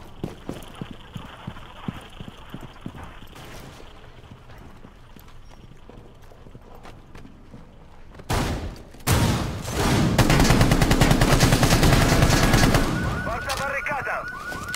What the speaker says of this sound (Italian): Che si sta già sparando così di brutto di sotto